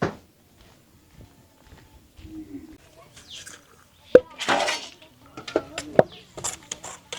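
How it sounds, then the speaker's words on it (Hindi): Metal pots, pans and utensils being scrubbed and washed give a few sharp clinks and clanks, with scraping and faint voices in between. "हाँ यार बर्तन मांजते है।"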